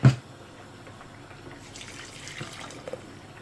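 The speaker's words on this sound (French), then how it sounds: "Donc là je vais ajouter 2 verres de bouillon de légumes." Vegetable broth poured into a pot of mushroom soup makes a soft, steady trickling and splashing after a brief knock at the start, fairly quiet throughout.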